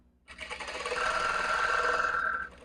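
A sewing machine stitches salwar fabric in a short, close, continuous whirring run of about two seconds, with no talk over it.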